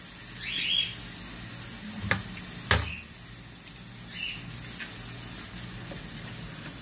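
Hamburger and egg frying in a pan, with a steady soft sizzle close by and a few sharp pops or utensil clicks against the pan.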